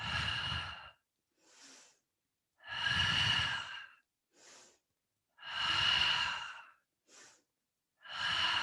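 Slow, steady exhales during mat Pilates leg circles, each long breath out followed by a short quieter inhale, repeating rhythmically up close with no talking.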